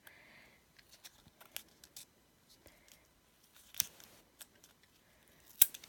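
Scissors cutting paper while making a handmade card, a run of small, quiet snips and crisp clicks scattered irregularly, close by, with one sharper snip near the end.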